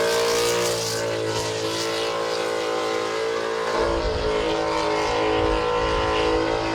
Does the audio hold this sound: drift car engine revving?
yes